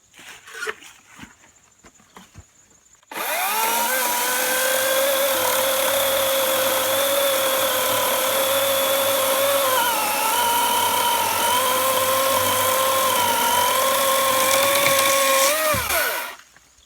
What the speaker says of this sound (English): electric chainsaws are finally here